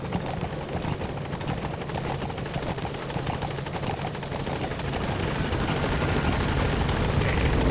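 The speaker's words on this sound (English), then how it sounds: "Support helicopter has arrived." A helicopter in the video game Metal Gear Solid V: The Phantom Pain, its rotor thumping steadily and loudly, a dense chopping drone that grows slightly stronger toward the end.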